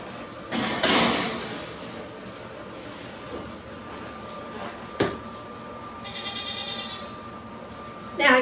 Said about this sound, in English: Now I'm gonna go feed the goats.